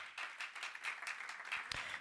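A church congregation claps for the Lord during a sermon, a dense, steady patter of many hands filling the room with no voices heard.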